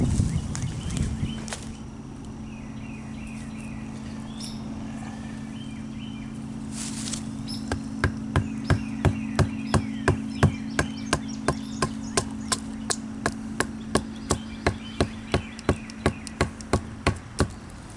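An Aitor Jungle King III survival knife is batoned through a piece of wood with a knot in it: a steady run of sharp, close wooden knocks, roughly two per second, begins partway through over a constant buzzing hum, with no talking.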